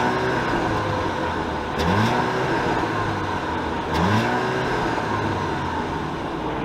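2021 Audi A4 allroad 45 Premium quattro wagon engine, a steady idle punctuated by two short revs a couple of seconds apart, each rising and falling back, heard nearby with no talk.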